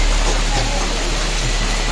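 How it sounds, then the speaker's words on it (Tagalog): Heavy rain pours steadily outside a house at night in Quezon Province, a dense continuous hiss with no breaks, loud and close. "Ang lakas po ng ulan."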